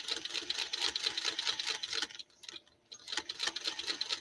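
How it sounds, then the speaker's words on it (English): A sewing machine runs at speed stitching a quilt, giving a fast, even mechanical chatter up close that stops briefly midway and then starts again. "I am going to just stitch out a little way and then stitch back"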